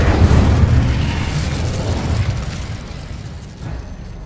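A loud spell explosion in the Hogwarts Legacy video game: a deep, rumbling boom that bursts at once and slowly fades over several seconds, with no talking.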